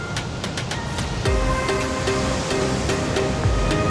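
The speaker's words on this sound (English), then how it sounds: "We've got some waves crashing up on the rocks behind us down here." Ocean waves crash against coastal rocks in loud, steady surf that surges and roars continuously, with no talk over it.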